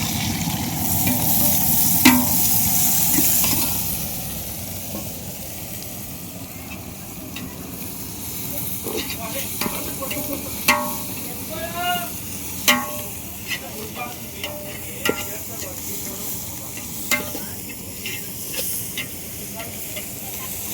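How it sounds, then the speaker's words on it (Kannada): Coriander, mint and fenugreek leaves fry for chicken biryani, cooked outdoors in front of a house; a loud initial hiss of frying settles into a quieter sizzle broken by repeated sharp stirring clacks and scrapes. "ಇವಾಗ ಕೊತ್ತಂಬರಿ ಪುದೀನ ಮತ್ತು ಮೆಂತ್ಯ ಸೊಪ್ಪು ಹಾಕೋತಾ ಇದ್ದೀನಿ"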